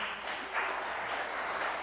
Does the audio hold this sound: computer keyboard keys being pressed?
no